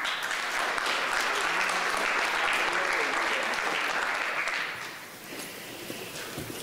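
Sustained audience applause at a university bioethics lecture, steady dense clapping for several seconds that fades toward the end, with no talk over it.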